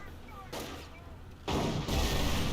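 Tank cannon and gunfire in the World War II strategy game Company of Heroes, with two heavy bursts of explosive fire at close range, the second louder and sustained.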